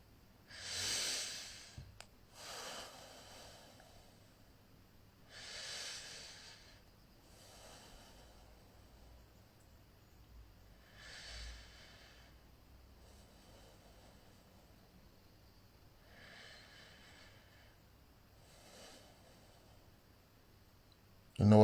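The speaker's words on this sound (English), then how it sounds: "I'm breathing and being completely present." Slow, deliberate conscious breathing, close to the mic, with about five audible inhale-exhale cycles spaced a few seconds apart over quiet room tone.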